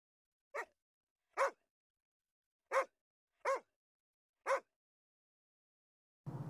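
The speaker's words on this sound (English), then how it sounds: "Ode to the neighbor's dog." A neighbor's dog barks from a distance, five single, evenly spaced, clear barks separated by silence.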